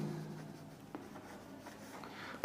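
A pen writes out a maths answer on paper, making soft close scratching strokes with light taps, quiet and continuous without speech.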